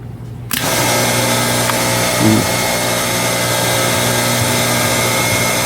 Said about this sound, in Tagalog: pag umiikot yung motor